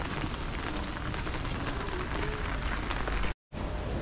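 Steady rain falling in Portoferraio, a dense continuous patter on surfaces close by, with no voices, broken only by a brief drop to silence near the end.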